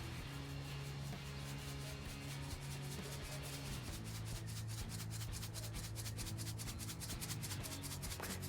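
Coarse ground salt is sprinkled onto a beef brisket before smoking, producing a steady granular hiss with rhythmic shaking pulses over a constant low hum.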